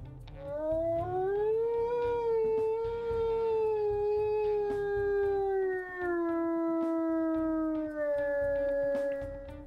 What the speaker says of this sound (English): we'll listen to her howls here